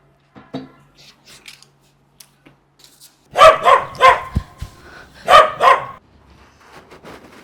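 Dogs bark in two loud, close bursts of several overlapping barks, separated by a short pause and followed by quieter trailing noise.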